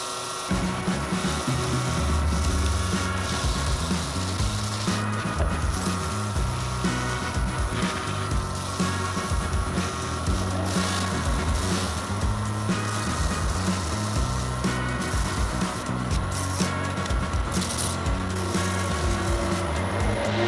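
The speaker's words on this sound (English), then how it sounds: "that's just with burnishing with the wood" A wooden block rubs hard against a wooden piece to burnish it, making a steady loud friction rasp that runs unbroken throughout.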